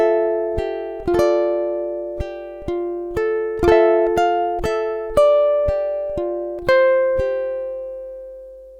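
Ukulele playing two measures of a song, a clear series of bright plucked notes and occasional strums in a steady rhythm, each ringing briefly, close and unaccompanied.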